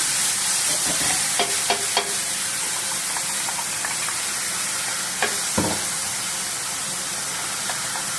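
Spice paste for brinjal kara kuzhambu sizzles and hisses steadily in oil in a heavy pot, with a few clinks and scrapes of stirring and no talking.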